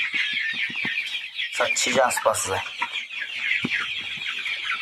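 Broiler chickens in a poultry farm cluck and chatter as a dense, continuous flock close by, with someone speaking briefly over them.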